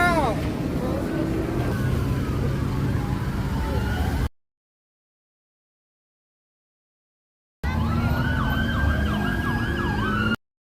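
An ambulance siren wails loud and near on a Los Angeles street during protests, its rising and falling sweeps over traffic noise and voices. It breaks off into silence for a few seconds, then returns.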